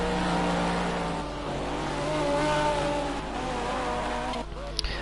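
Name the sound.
GT3 race car engine during qualification session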